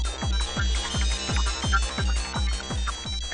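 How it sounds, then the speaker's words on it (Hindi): A mobile phone ringtone plays loudly and alone in a home, a repeating electronic melody with a steady, even beat that loops without pause for the whole clip. "इस फोन को भी अभी बजना"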